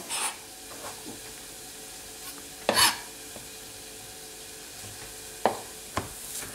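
Shallots cooking gently in a pan without browning: faint soft sizzle with a few sparse stirring scrapes and clinks, quiet and close, no talking.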